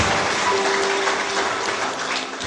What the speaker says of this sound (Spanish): Fuerte aplauso al Espíritu Santo